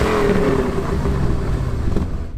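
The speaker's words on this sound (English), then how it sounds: "let's see what that Corvette sounds like" A 1980s Corvette engine revs hard nearby, a loud, continuous roar holding for a couple of seconds before easing off.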